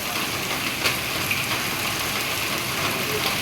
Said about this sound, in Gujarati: વરસાદ બહુ સારી માત્રામાં પડી રહ્યો છે